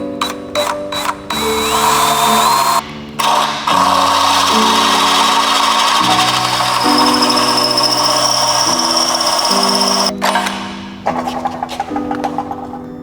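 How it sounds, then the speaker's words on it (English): A power drill bores out a rivet on a parking brake spring bracket of a Subaru BRZ / Scion FRS rear brake, whining loudly and steadily with brief pauses and pitch shifts as it bites through the metal. "once you drill this last rivet through here on the spring bracket"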